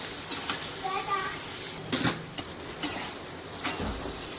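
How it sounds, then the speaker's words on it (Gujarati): A spoon scrapes and clinks against a pan as spices are stirred into a taro root curry, giving a few sharp metallic knocks and softer scraping in an uneven rhythm, close and moderately loud. "સરસ રીતે હલાવી લેવાનું છે."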